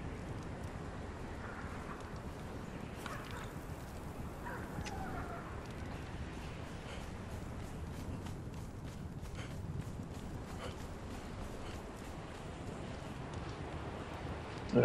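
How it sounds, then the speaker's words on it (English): Desert wind from a sandstorm blows in the game Conan Exiles, a continuous, moderately loud rushing roar that swells slightly, with faint footstep-like taps scattered through it. "Oh, here comes the sandstorm."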